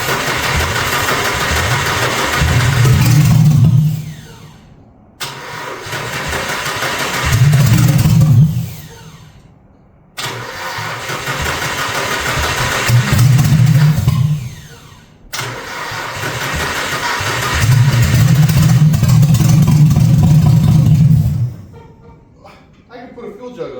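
A car engine catches and runs on its first start after fresh wiring and headers, rumbling loudly in four bursts that each die off into brief silence before it cranks and fires again, with people talking between the runs.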